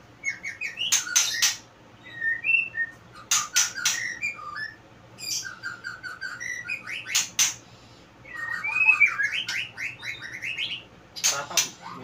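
A two-year-old white-rumped shama sings in bursts of varied whistles, trills and sharp chirps, close and clear, separated by short pauses over a faint low hum.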